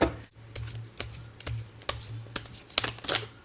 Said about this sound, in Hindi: सारे कार्ड्स गिरते ही रहते हैं कभी कभी तो